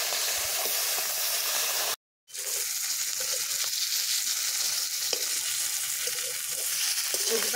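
Bata fish pieces fry in oil in a kadai, giving a close, continuous crackling sizzle with small pops, broken by one brief silent cut near the start.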